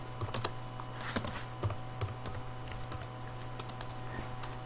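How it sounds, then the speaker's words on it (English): Computer keys clack in short irregular bursts as a graph title is typed in a spreadsheet, close and fairly quiet over a steady low electrical hum, with no speech. "You can click inside, highlight this, and type the title of your graph."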